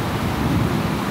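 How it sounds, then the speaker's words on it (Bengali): Thunder rolls during heavy rain in Shahinbagh, Dhaka, a loud broad low rumble blended with dense rain noise, continuous for the short stretch with no speech. "মেঘে ডাকতেছে, মেঘের গর্জন শোনা যাচ্ছে।"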